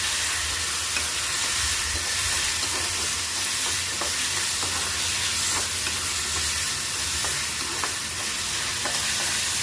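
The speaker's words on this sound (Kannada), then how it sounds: "ಒಂದೆರಡು ಸ್ಪೂನ್ ಶುಂಠಿ ಬೆಳ್ಳುಳ್ಳಿ ಪೇಸ್ಟ್. ಅದು ಸ್ವಲ್ಪ ಹಸಿ ವಾಸನೆ ಹೋಗೋವರೆಗೂ ಸ್ವಲ್ಪ ಬಾಡಿಸ್ಬೇಕು." Ginger garlic paste sautés with prawns in a pan, giving a steady, close sizzle and hiss with faint stirring scrapes running throughout, no voices.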